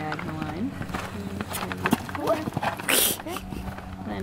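A show-jumping horse canters on landing after a fence in a riding arena, its rhythmic hoofbeats close and moderately loud under a rider talking.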